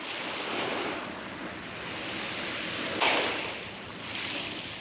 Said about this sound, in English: you can see where the waves are breaking just down here